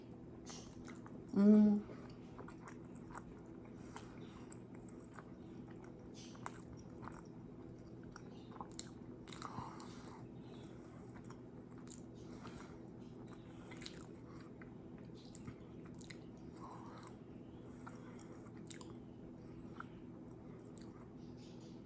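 Quiet, close chewing and biting on a pasta meal with pesto, soft irregular mouth sounds spread over a long stretch with low background hum and occasional faint speech.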